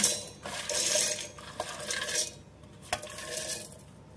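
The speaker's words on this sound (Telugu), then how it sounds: "ఇలా ఒక మిక్సర్ జార్ తీసుకుని దాంట్లో మనం ఫ్రై చేసి పొట్టు తీసి పెట్టుకున్న ఈ పల్లీల్ని ఇలా యాడ్ చేసేద్దాం" Roasted, peeled peanuts tumble into a mixer jar, giving a few bright rattling clinks and scattered patters against the container, moderately close and without speech.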